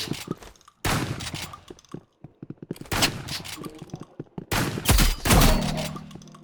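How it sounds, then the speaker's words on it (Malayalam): Gunfire in the Roblox game Rivals, including shotgun blasts: bursts of sharp shots and rapid fire come in clusters with short gaps, loud and close, ending in a heavier booming blast. "ഓ ഗൈസ് അവൻ നമ്മളെ കിൽ ചെയ്തു ഷോട്ട് ഗൺ കൊണ്ട്"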